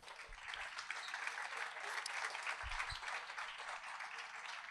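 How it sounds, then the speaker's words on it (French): Steady, full audience applause at a French free speech and censorship panel as a guest is welcomed to the stage, dense clapping sustained throughout at moderate level with no talk over it. "Je vous demande de l'applaudir bien fort et de l'accueillir."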